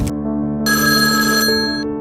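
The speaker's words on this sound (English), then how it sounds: "Jenny Sodder woke to the sound of the phone ringing" An old household telephone bell rings in a late-night home, a loud sustained metallic ring over a steady low hum, stopping and starting within a couple of seconds, with no voices.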